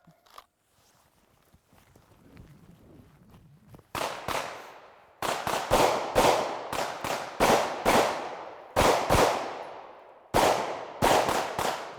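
Handgun shots ring out during a shooting drill. There is quiet shuffling at first, then about a dozen sharp, loud reports in quick clusters with brief pauses between strings.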